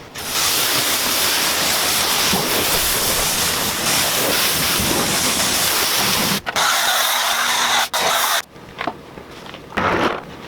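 A pressure washer rinses a Lexus GSF with water, a loud, steady hissing spray that cuts out abruptly a few times near the end before starting up again.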